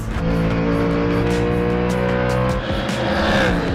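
A Ford Mustang GT race car of the GT World Challenge endurance class roars loudly and steadily close by, its engine note holding throughout with a slight shift near the end.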